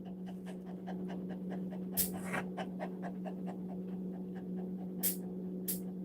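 Close, steady rhythmic panting from a small half Chihuahua, half Papillon dog, quick even breaths repeating throughout over a low electrical hum, with a few brief sharp noises in between.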